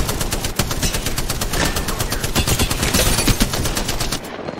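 Rapid automatic gunfire from a weapon in the video game Apex Legends, Arenas mode, a loud continuous stream of close shots with strong kick, firing nonstop for several seconds before cutting off abruptly.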